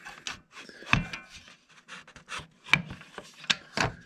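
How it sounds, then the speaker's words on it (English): Clamps being loosened on a wooden puzzle frame with half lap corner joints, giving close, irregular scraping and rubbing bursts of wood and metal with a few sharper knocks. "let me loosen the clamps up a little bit"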